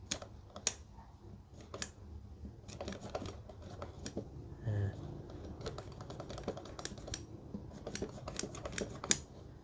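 Vintage American hand hole punch tool being twisted like a screwdriver, giving dry, irregular clicks and ratcheting ticks at close range, scattered across the stretch with a faint background murmur.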